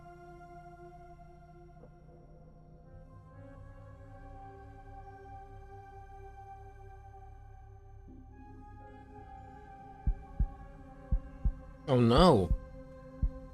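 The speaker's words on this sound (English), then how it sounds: "Can you hear her heart beating?" Heartbeat in a horror point-and-click game featuring an evil clown: soft, low thumps late in the clip over a sustained eerie hum, followed by a brief startled exclamation.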